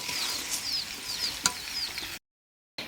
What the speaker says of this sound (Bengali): এই যে হচ্ছে লাল আমের আচার এটাও কষানো হয়ে যাইতেছে ভালো করে কষায়